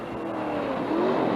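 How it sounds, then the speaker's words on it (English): The blue John Wyer Ford GT40 race car at Le Mans 1969 roars past on the road course, a steady, loud engine drone whose pitch shifts as the car goes by, with no voices heard. "It is the blue Ford, John Wyers Ford, the very same car that won here last year that is holding the lead right now."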